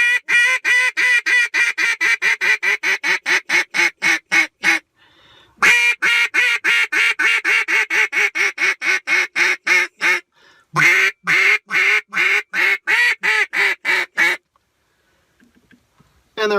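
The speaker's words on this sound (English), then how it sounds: "And there were a couple loud quacks at the end." Rapid series of loud, nasal quacks from a handheld duck call in quick rhythmic bursts, pausing briefly, then resuming, ending with a few scattered softer quacks.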